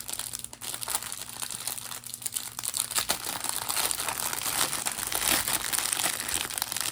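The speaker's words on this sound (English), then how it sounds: "Sorry for all the crinkling." Plastic packaging of a diamond painting kit crinkles and rustles continuously up close, growing busier and louder through the second half, with no talking.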